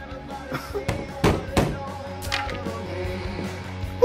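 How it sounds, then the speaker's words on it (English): Banging on a door in Life is Strange: True Colors, several sharp knocks in an uneven cluster over quiet background music, with a few fainter thumps between. "banging on my door"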